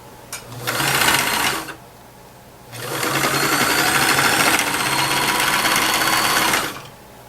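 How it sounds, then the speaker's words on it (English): A serger stitches fabric in two runs, a brief burst of about one second and then a longer steady whirring run of about four seconds, loud and close with no talking. "My serger doesn't want to turn corners"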